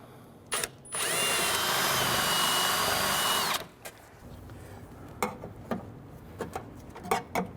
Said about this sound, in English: Go ahead and drill out the middle of the rivet.